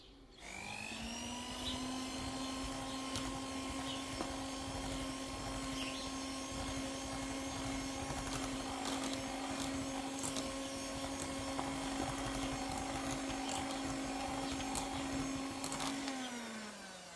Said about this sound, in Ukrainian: Тоненькою струйкою виливаю його у крем і активно перемішую міксером, аби желатин з'єднав із кремом.